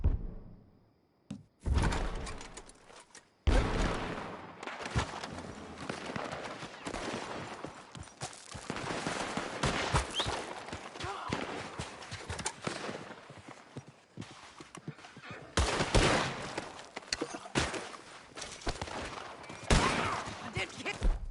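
Gunfire in a Red Dead video game shootout, a dense irregular stream of sharp shots and impacts, some loud and close, others fainter, continuing throughout with little pause.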